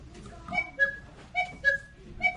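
A large German Black Forest cuckoo clock's bigger air bellows sound an old-style cuckoo call, several soft two-note whistled tones repeating in a short steady rhythm, fairly close and quiet.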